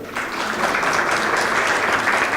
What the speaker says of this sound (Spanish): la maestra Elsa Viviana Peralta Hernández, para quien pido también un aplauso.